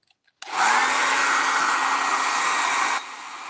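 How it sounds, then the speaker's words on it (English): A hair dryer drying paint switches on abruptly and blows with a loud, steady whoosh, then drops to a lower setting near the end. "finish putting these on, and I'm going to blow it dry."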